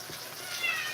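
Cats Drogo and Kiki fight and meow, a brief strained cry rising out of a steady hiss of room noise, fairly close and moderately loud.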